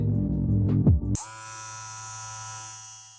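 A cordless hair trimmer fitted with a TPOB Psycho Blade switches on after a brief thump and runs with a steady, fairly quiet electric buzz and hum that holds even and close.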